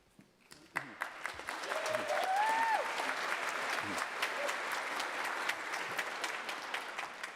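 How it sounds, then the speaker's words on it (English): Audience applause for Indigenous graduates at an honouring ceremony, a steady wash of clapping that swells and holds for several seconds, with a short whistle-like tone riding over it. "Once again, a round of applause for IUBP graduates."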